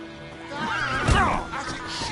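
Horse whinny in The Witcher 3 video game, a single rising-and-falling neigh peaking midway with a thud, over low ambient game sound.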